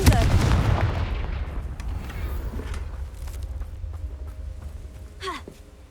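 A Confringo blasting spell from Hogwarts Legacy erupts in a loud booming explosion at the start, then rumbles and decays over several seconds, with faint game effects trailing behind.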